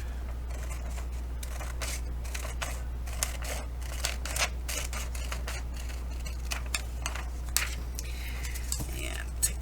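Scissors snip through onion skin washi tape in a string of short, crisp cuts scattered across the stretch, close and fairly quiet over a steady low hum, with faint soft handling noises between them.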